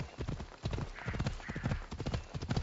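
A horse's hooves clip-clop in a quick, steady trot in the video game Assassin's Creed Odyssey, close and clear, with no talking.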